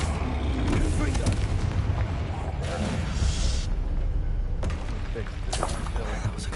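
A Confringo blasting spell explodes in Hogwarts Legacy, deep booming blasts rumbling close over a busy game soundscape, with a voice talking across much of it.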